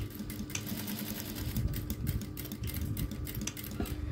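A sewing machine runs continuously up close as fabric is stitched into a multi-use gift bag, giving a steady rapid mechanical whir with dense needle clatter and no talking.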